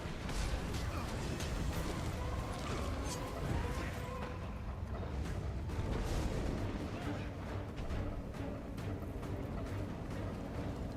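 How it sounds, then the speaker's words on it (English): Main cannon firing in the video game Guild Wars 2, heavy booming blasts buried in a dense, continuous roar of battle noise and game sound, fairly quiet overall. "Firing main cannon."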